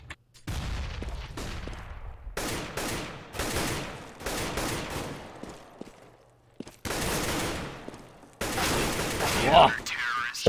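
Rapid bursts of rifle gunfire from a professional Counter-Strike esports match on de_mirage, loud repeated volleys separated by short pauses, with a caster's voice talking over parts of the action.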